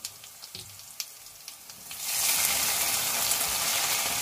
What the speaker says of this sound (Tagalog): Gisa natin ng toyo.